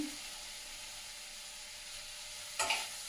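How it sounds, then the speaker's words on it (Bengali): Vegetables and paneer fry dry in a pan with a soft, steady sizzle throughout, followed by a short louder burst of stirring near the end. "পনিরটা সবজির সঙ্গে ভাজা ভাজা হয়ে যাবে"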